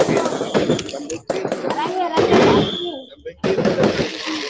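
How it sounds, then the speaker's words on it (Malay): Night-time fireworks during a Hari Raya live broadcast, loud crackling bursts and pops in irregular volleys, heard with people talking close by. "kita suasana malam ni dikelilingi oleh bunga api"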